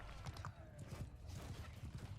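Horses gallop into a Mount & Blade Realm of Thrones mod battle with Dothraki riders, a quiet, rapid clatter of hooves that runs steadily throughout.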